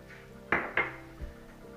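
Four teaspoons of culinary lavender go into a pot for lavender tea, making two quick, close clinks against the pot followed by a soft low thud in a quiet kitchen.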